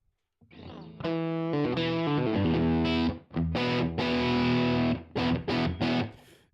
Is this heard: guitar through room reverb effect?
yes